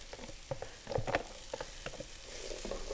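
Chopped hard garden vegetables with tomato fry quietly in a skillet, a low, even sizzle broken by scattered utensil clicks and scrapes against the pan, with no talking.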